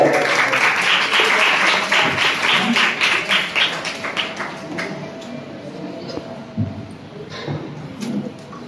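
Applause from the audience at a Malegaon cultural committee hymn recitation contest prize distribution, loud at first and thinning out into scattered claps and murmur.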